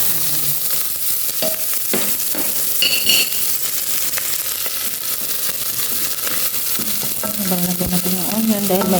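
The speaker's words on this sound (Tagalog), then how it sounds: "lagyan natin yung onion dahil mainit na mainit yung ating kaserola" Onion and beef fry in a very hot casserole pot, a loud continuous sizzle with stirring scrapes and clinks near the pan, no talk.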